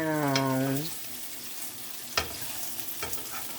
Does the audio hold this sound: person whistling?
no